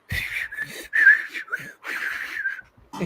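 Someone whistles a wavering, breathy tune in short phrases with brief pauses between, close and fairly loud.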